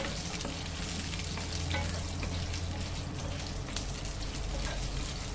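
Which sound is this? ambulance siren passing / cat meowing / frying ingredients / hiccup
frying ingredients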